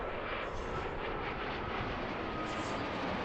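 A Boeing Dreamliner airliner arriving from Dallas passes overhead, a loud, steady broadband jet engine roar that holds throughout with only slight swells.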